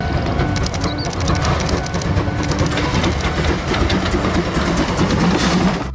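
A toy train runs with a steady whirring, rattling motor and clicking wheels, a continuous mechanical drone lasting throughout at close range with no talk over it.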